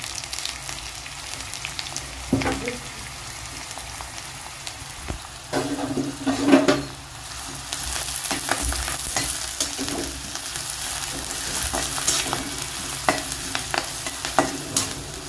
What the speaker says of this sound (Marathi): आणि लगेच कढीपत्ता पण घालायचा आहे